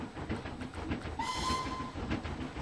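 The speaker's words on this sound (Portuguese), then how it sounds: "Olha o trem chegando." Train pulling into a Wild West style station in the Planet Coaster video game, a steady rumbling clatter with a brief whistle tone rising over it midway, moderately faint.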